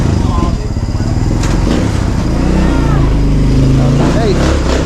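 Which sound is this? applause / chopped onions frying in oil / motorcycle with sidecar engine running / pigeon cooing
motorcycle with sidecar engine running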